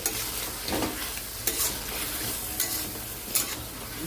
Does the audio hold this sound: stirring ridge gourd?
yes